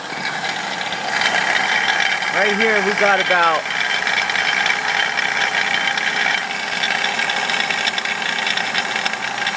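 A running car engine with a restricted catalytic converter hums and rattles steadily up close while someone talks briefly over it.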